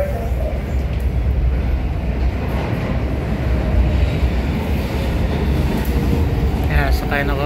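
A New York subway train at 14th Street Union Square, Manhattan, rumbles and rattles steadily along the tracks, with a low continuous roar and faint voices underneath.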